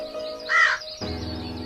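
A crow gives a single harsh caw, loud and close, standing out over a steady backdrop of music.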